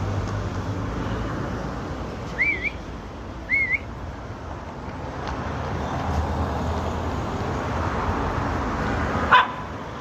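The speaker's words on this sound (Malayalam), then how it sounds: "ഇതെല്ലാം കോട്ടയത്തെ ഡോഗ്സാണ്" Street dogs on a night walk in Kottayam, Kerala, giving two brief, fairly distant yips or barks against a low steady background hum of the street.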